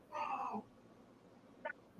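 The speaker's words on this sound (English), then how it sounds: "it's Tammy's two cats. Yeah. That's what you heard earlier" Two cats fight, giving out one loud, strained meow or yowl that lasts about half a second. A short, sharp squeak follows later over quiet background.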